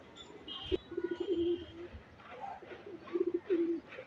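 A tournament racing pigeon coos softly in a few short, rolling phrases with pauses between them, fairly faint, with no talking over it.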